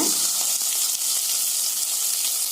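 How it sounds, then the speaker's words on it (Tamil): Karpooravalli and tulsi leaves sauté in hot coconut oil for an herbal soup, a steady, loud, close sizzle with no talking. "இந்த இலை கற்பூரவள்ளி இலைங்க, கொஞ்சமா துளசிங்க, இதையெல்லாம் நல்லா இந்த எண்ணெயில லேசா வதக்கி விடுங்க"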